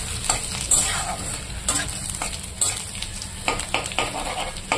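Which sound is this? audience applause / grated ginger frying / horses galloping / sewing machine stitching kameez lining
grated ginger frying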